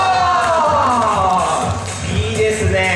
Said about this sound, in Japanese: 子供の皆さんの歓声をお願いします